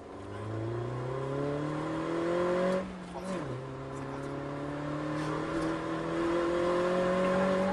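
A Mini GP2 motorbike accelerates on a track, its engine note climbing steadily in pitch, dipping briefly at a gear change, then rising again; close and loud, with a voice speaking over it.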